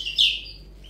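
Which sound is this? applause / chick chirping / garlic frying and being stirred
chick chirping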